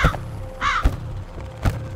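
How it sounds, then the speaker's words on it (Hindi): A crow gives three loud, harsh caws, close and spaced apart across a couple of seconds, each accompanied by a low thump. "देखो कौवा,"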